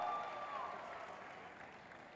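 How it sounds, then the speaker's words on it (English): An audience applauds at a film teaser launch event for Citadel: Honey Bunny with Varun Dhawan and Samantha, a steady mid-distance clatter of clapping with a faint tonal line over it, fading slightly toward the end. "a round of applause for our honey bunny, Varun Dhawan and Samantha"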